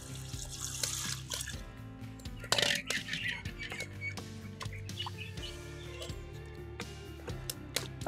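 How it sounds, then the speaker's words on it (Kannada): Water poured into ground masala paste for a Nati Koli Bassaru country chicken curry, a steady trickling splash over a continuous hum, with birds chirping in the background. "ಮಸಾಲೆ ನೀರು ಹಾಕ್ತಾ ಇದ್ದೀನಿ"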